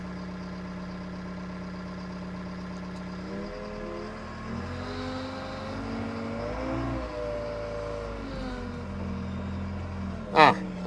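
Claas Scorpion telehandler rolling forward on a farm during wheat loading, its diesel engine humming steadily and shifting pitch as it picks up speed, with a short sharp noise near the end.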